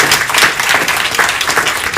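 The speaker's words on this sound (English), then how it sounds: "So one more round of applause." Applause at an annual church meeting: a dense, steady round of clapping from a seated crowd, filling the short moment with even, continuous hand claps and no talk.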